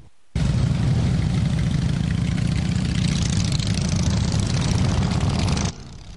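Motorcycle engines idle together at a charity ride for suicide awareness, a steady loud low rumble held for several seconds before it drops away.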